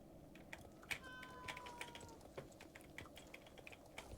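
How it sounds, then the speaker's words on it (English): A faint, drawn-out meow from a cat rises briefly over a background of quiet, irregular clicking and tapping. "There's a cat."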